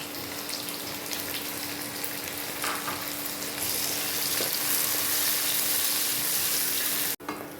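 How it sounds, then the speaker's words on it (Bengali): Chopped tomato frying in a pan for palak paneer, a steady, close broadband sizzle that grows slightly louder midway, then breaks off briefly near the end, with no talking. "দেখো টমেটো কুচিটাও ভাজা হয়ে গেছে"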